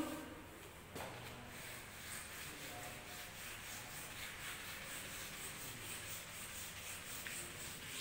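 Duster rubbed steadily across a classroom board, a faint continuous scrubbing swish lasting several seconds with a soft knock near the start, no talking.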